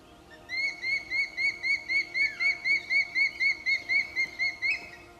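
A changeable hawk-eagle calls in a steady series of short, high, whistled notes, about a dozen and more, evenly spaced and fairly close.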